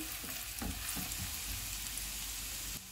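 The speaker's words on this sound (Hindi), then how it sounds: "1 मिनट के बाद प्याज डालेंगे। इनको 2 मिनट तक फ्राई करेंगे।" Onions fry in a pan over medium heat, giving a steady, close sizzle with a few soft scrapes of stirring and no voices.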